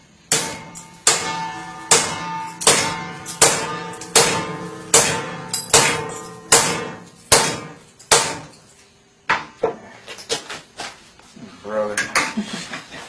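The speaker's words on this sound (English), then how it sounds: "we'll go ahead and take the M9 and see if we can hammer through the steel without it breaking" An M9 bayonet is hammered through mild steel stock: about a dozen loud, close metallic strikes ring out in a steady rhythm, each with a short ringing decay. A looser scatter of lighter clanks follows at the end.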